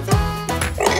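Short dog bark, likely a cartoon-style sound effect or sung imitation, in a children's farm song about building a farm with toy trucks. It is one sharp, downward-swooping yelp over bright music, close and fairly loud.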